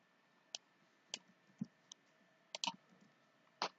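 A computer mouse clicking in a quiet room: several sharp, isolated clicks spread out over a few seconds, including a quick close pair, faint and close-up with no talking.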